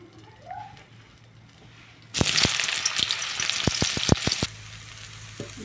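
Soaked soybean chunks fry in hot oil in a pan, a loud steady sizzle that starts abruptly and is punctuated by several sharp clacks of stirring, then drops back to a quiet hiss.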